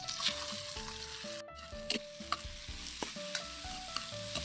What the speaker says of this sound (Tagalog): Nagigisa na tayo. Lagay tayo ng mantika.